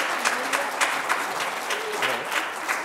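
A church congregation claps during a sermon, a dense, continuous round of applause with scattered sharper claps, fairly close and steady for about three seconds.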